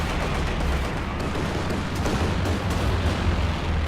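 Tank cannon fire in Company of Heroes 2 during a T-34 fight against a Jagdpanzer, a dense, continuous roar of booming shots and crackling battle noise with no clear gaps.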